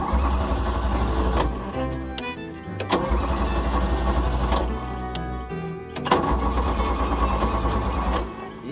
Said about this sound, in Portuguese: Seu Cris, o carro não quer pegar não.